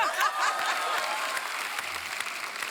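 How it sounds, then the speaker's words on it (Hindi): A studio audience at a comedy show claps, with dense, steady applause from the start that gradually softens, plus light crowd noise beneath. "ये तो प्यारे लोग हैं, हर बात पे वैसे ही ताली बजाते हैं"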